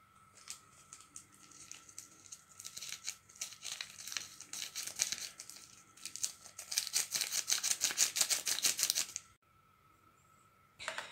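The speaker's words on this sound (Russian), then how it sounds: "Высыпаю пакетик ванилина." A paper packet of vanillin is torn open and emptied into a bowl of beaten eggs, salt and sugar for kefir pancake batter, giving bursts of crinkling and rustling paper that build and then stop abruptly.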